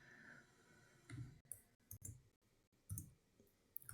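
Computer keyboard keys clack in short bursts and separate taps at a desk, fairly close and quiet, with small pauses between groups of keystrokes.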